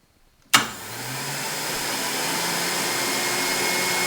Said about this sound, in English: So first we have the Lequip 215 XL juicer.